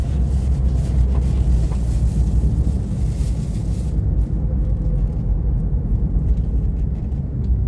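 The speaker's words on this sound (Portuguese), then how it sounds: "Uma demonstração de como vai o carro aqui" A heavily loaded car drives on a road, giving a steady low engine and road rumble with wind noise throughout, close and continuous.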